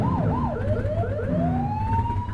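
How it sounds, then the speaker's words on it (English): A police car siren in the game The Precinct gives a series of quick rising and falling blips, then one long climbing wail. The loud electronic tones ride over a low engine hum with no talking. "Get behind them and blip the siren to make them pull over"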